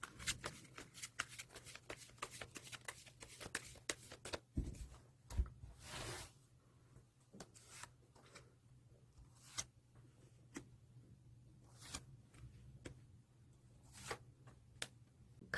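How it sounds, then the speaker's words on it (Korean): Tarot cards being shuffled by hand, a series of crisp riffles and slaps in uneven bursts, close and soft, with brief pauses between handfuls. "그럼 셔플 진행하도록 하겠습니다."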